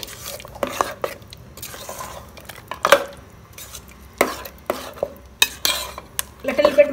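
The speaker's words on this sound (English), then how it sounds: "Give it a good stir." Stirring shakuti gravy in a pot with a spoon, a series of close, uneven scrapes and knocks against the metal, sharp clinks standing out among softer sloshing strokes.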